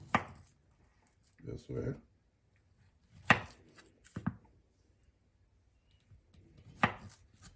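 A knife cuts through a ripe plantain on a board for Jamaican sweet fried plantains, giving several separate, crisp slicing thuds spaced by pauses, close and fairly quiet, with brief speech between them.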